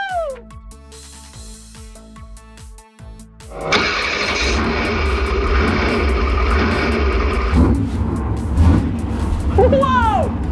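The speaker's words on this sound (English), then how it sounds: "The engine is so loud! Car is driving!" A car engine roars loudly as the car drives off, a steady broad rumble after upbeat music, with a person speaking over it.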